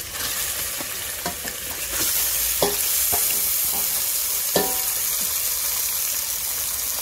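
Onion frying in a pan with garlic-ginger paste sizzles steadily while a spoon scrapes and knocks through it in irregular strokes, getting louder partway through, with no voices.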